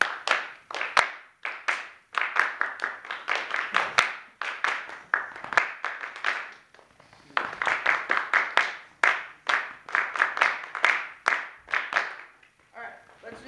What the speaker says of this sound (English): I want you to show me with your clapping your over-exaggerated, awesome articulations.